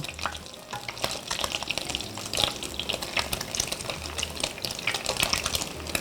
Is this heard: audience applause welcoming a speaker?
no